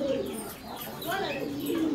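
Pigeons coo in a low, steady warble, close and continuous for a couple of seconds, with faint higher chirps above.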